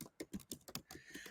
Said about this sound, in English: if I knew I was going to be typing in front of people